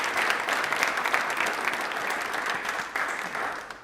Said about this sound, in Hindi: बट एक बार तालियां सर के लिए जोरदार हो जाए